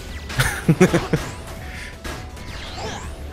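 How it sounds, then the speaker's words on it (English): Glass breaks in the video game Sonic the Hedgehog (2006), with a burst of sharp smashing hits early on followed by whooshes and lighter game effects. "I'm going to assume this is supposed to be bulletproof glass. Because I mean, Jesus Christ, look how easily I'm breaking this shit."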